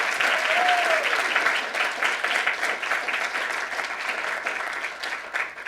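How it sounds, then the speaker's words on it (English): An audience claps for a panel, a sustained burst of dense applause that gradually thins and softens over several seconds. "if we have a round of applause for our entire panel"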